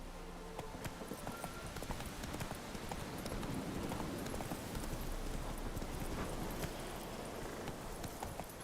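Roach, the horse in The Witcher 3, gallops in a steady, driving clip-clop of hooves that runs the whole time, close and fairly loud amid a busy game soundscape.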